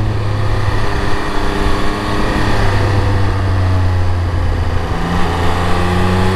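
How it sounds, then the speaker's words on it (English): A 2022 Triumph Speed Triple 1200 RS motorcycle engine drones steadily and loudly throughout, a continuous low exhaust note holding a constant pitch with no pauses. "Exhaust note on this thing is absolutely exhilarating."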